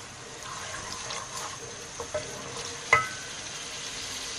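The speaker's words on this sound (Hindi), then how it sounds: "अब हम इसको डाल के थोड़ी सा भुनाई करेंगे।" Curry leaves frying in a pan of oil for kadhi, giving a soft steady sizzle with a few small pops and spatters, faint and close.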